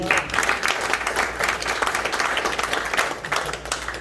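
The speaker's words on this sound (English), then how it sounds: "A round of applause for you." Dense round of applause from attendees at a real estate investors meeting: loud, fast, overlapping hand claps forming a continuous rattling wash for about four seconds without letting up.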